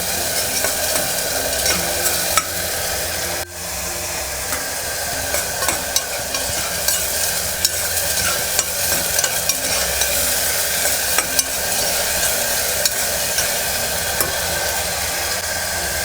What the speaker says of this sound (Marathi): पेस्ट बघा चांगली आपली आता लाल होत आलेली आहे, चांगली परतली गेली आहे तेलामध्ये.